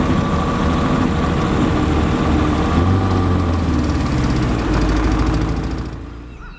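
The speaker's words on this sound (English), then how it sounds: "Having trouble with my motor again." A troublesome boat motor runs steadily and loud at close range, a low rumbling drone with some mid-range rattle, fading slightly near the end, on the way to a turkey hunting spot.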